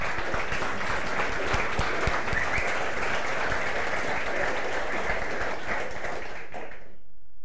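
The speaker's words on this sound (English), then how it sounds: "So please give Adam and his gang a big applause." Conference audience at the Umbraco UK Festival 2014 keynote clapping in a dense, sustained wave of applause that stays loud and even for several seconds, then cuts off abruptly.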